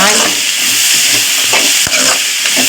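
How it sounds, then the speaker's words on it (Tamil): Vegetables sauté in a hot pan for street-style paneer fried rice, a loud, continuous hiss and sizzle with a few scraping stirs close by. "காய் நல்லா வதங்கணும்"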